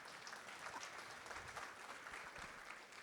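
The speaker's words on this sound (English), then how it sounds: "I think we need another round of applause" Continuous applause from an audience at a business women's awards event, a steady even wash of many hands clapping, heard faint and distant throughout.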